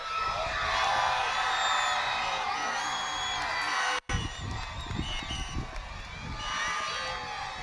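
At a middle school graduation, a crowd cheers and yells in a loud sustained roar, briefly cutting off around the midpoint, then resuming with scattered whoops and shouts.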